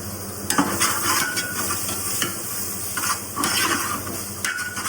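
Tomatoes sizzle in a hot pan while a spoon stirs and scrapes against the metal, a steady frying hiss with intermittent clinks and scrapes, close up and with no voices.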